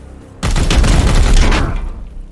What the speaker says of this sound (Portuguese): Dá dois tiros aqui.